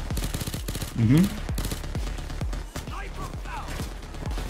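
Rapid repeated gunfire from a Payday 2 bank heist, including rooftop snipers, a fast rhythmic stream of sharp shots throughout, with a brief murmured voice over it.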